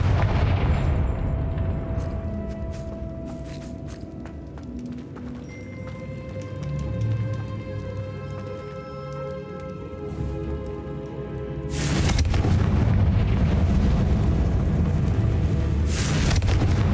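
A Confringo fire spell from Hogwarts Legacy bursts in a tall castle room, a broad loud blast around twelve seconds in, rising over continuous game music and rumbling ambience.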